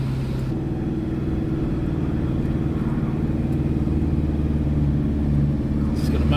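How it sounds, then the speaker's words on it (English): A diesel engine idles under the bonnet of a vehicle at an Australian beach, giving a steady, close, low mechanical rumble that holds an even, ticking tone throughout. "love hearing the diesel just tick away there under the bonnet"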